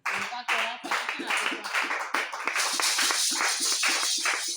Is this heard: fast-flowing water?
no